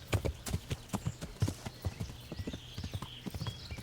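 Horse hooves clip-clop in the video game Kingdom Come Deliverance, a close, brisk run of irregular hoofbeats at a trot, clear and fairly loud with no talking over them.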